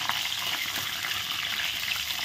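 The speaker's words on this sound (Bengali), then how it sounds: "লঙ্কাগুলো ভাজা হয়ে গেছে।" Whole dried red chillies and two bay leaves frying in hot oil, a steady close crackling sizzle, fairly quiet, with no talking.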